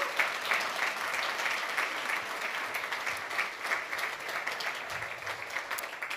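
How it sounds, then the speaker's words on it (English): A room full of people in a church claps steadily, warm sustained applause with no voices standing out. "Give her a round of applause."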